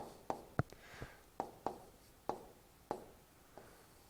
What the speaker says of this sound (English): So let's first write it down